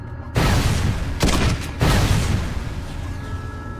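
In the Halo Wars video game, a flame mortar fires a quick series of heavy booming blasts that overlap, then a rumbling tail trails off. The blasts are loud, with no talk over them.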